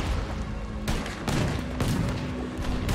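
Cannon fire in the video game Red Dead Redemption II during a rebellion battle: a steady wash of booming gunfire and blasts, with sharp reports near 0.9, 1.3 and 1.8 seconds, loud and continuous with no talk.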